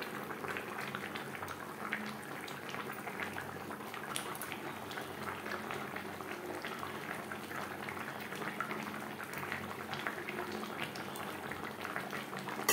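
Foli fish curry with potato and cauliflower simmering in gravy, a steady, soft bubbling and faint crackle that carries on evenly throughout with no talking.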